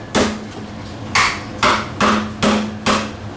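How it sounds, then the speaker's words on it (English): A hammer strikes a lobster claw six times in a loose, uneven rhythm, each a sharp, close crack with a short ring. "I'll have to go get after it with the hammer just a little bit"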